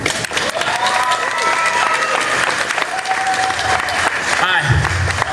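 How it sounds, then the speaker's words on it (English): A crowd at a bartending symposium applauds loudly and steadily as a speaker takes the stage, with chatter and a whistle running through the sustained clapping. "Big round of applause from Martin from Zazracna."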